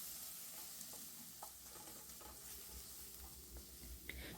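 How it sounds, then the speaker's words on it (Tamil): Spices and soybeans sautéing in oil with a low, steady sizzle, broken by occasional soft scrapes and taps of a stirring spoon against the pan, with no one speaking. "எல்லாத்தையும் நல்லா எண்ணெயில் வதக்கி கொடுத்துருங்க"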